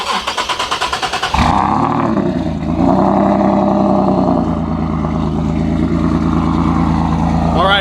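A turbocharged Nissan 370Z Nismo starts up and settles into a loud, steady idle as it warms, a low rumbling drone with a brief rev, while people talk nearby.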